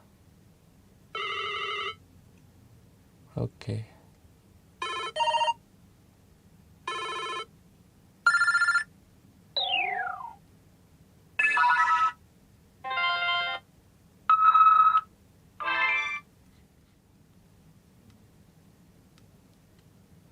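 Ringtones on a BlackBerry Gemini 8520 phone play as a series of about ten short electronic tunes and beeps, each lasting a second or so with brief gaps between them, clear and close. A single short word is spoken early on.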